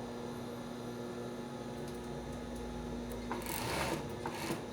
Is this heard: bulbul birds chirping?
no